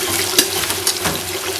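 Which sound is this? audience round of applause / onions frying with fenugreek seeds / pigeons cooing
onions frying with fenugreek seeds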